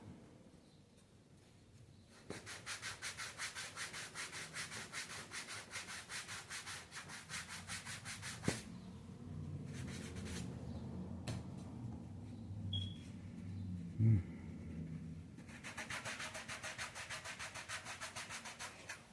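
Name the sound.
sanding block rubbing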